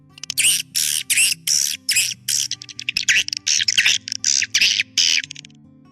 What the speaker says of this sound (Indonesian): Suara walet yang bagus dan berkualitas juga merupakan suara yang sering ditiru oleh burung walet asli.